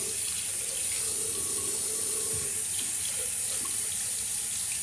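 Hot water pouring steadily from a tap into a sink, a loud, constant, hissing rush that continues unbroken throughout.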